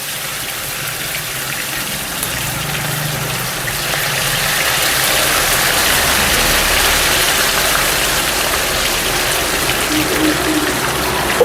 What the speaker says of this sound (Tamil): ஓரளவு மிதமான அனலில் அந்த சில்லியை போட போகிறோம்.